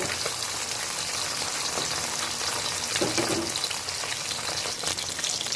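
Fish, bought live, frying in a pan for a papaya and potato curry, giving a steady, close, dense sizzle with crackling spits throughout and no talking.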